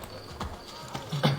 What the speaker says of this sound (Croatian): Konjiću.